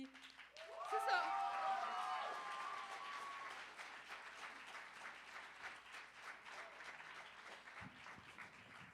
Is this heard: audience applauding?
yes